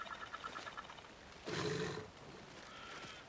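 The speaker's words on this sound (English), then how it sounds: "Like, I can hear the wolf." A wolf in the video game Alan Wake 2 gives a loud, rough growl lasting about half a second, following a stretch of quieter rhythmic game ambience, with a faint call near the end.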